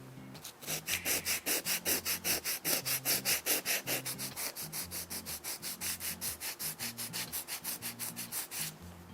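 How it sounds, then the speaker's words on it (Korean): Rapid, rhythmic back-and-forth scraping of sandpaper on metal, steady strokes continuing for several seconds close by, then stopping. "이 바닥면도 마찬가지로"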